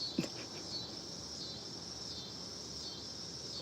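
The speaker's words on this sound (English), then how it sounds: "Love crickets." Steady high-pitched chirping of crickets fills the background, faint and continuous, with a brief soft knock near the start.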